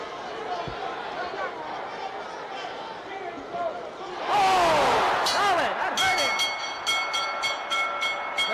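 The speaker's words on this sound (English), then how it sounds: "There's the bell" A bell ends a round in the 1974 Muhammad Ali vs Joe Frazier rematch, ringing out over a loud arena crowd roar with repeated metallic strikes in the second half while a commentator talks.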